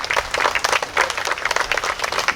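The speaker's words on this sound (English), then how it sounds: "Ladies and gentlemen, shall we dedicate a applause to congratulate our newlyweds?" Wedding guests at a 2021 ceremony clap for the newlyweds, a lively burst of many hands with uneven, fluttering rhythm, fairly close and loud, no voices over it.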